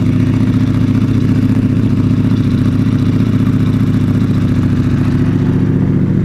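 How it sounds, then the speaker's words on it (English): A Ducati motorcycle with its stock factory exhaust idles loud and near outside a café, a steady low throbbing engine note with a rough, clattering pulse and no voices. "That's a factory exhaust."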